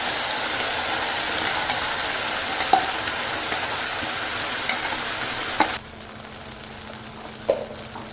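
Spice paste with asafoetida hits hot oil for a no-onion, no-garlic pumpkin chutney, making a loud, steady frying hiss with a few stirring clicks before the sizzle abruptly drops to a quieter level.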